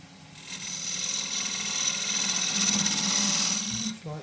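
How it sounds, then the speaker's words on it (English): A 3/8 spindle gouge cuts an oak tenon on a spinning lathe, giving a steady, close, bright hiss and scrape for about four seconds before easing off. "I'm going to make that slightly longer, and I'll do that with my 3/8 spindle gouge"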